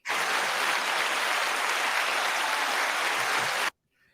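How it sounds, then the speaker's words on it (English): A crowd applauds in a dense, steady patter of clapping that stops abruptly, leaving near silence. "You got claps and everything, Pepper."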